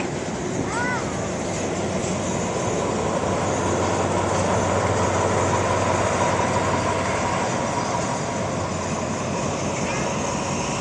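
A train rumbles past at Nakhon Lampang railway station in a steady, loud roar of wheels and carriages that holds throughout with no letup.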